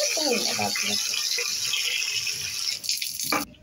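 Water splashing and running while mung dal is washed by hand in a kitchen, a close steady rinse with brief rattles of lentils, ending abruptly.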